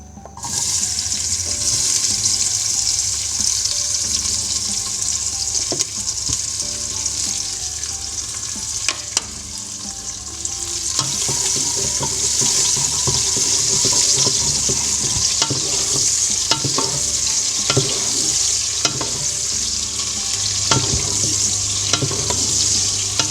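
Sliced onions sizzle in hot oil for a dish of cauliflower and meat, a steady loud crackle with frequent spoon scrapes and knocks against the pan throughout.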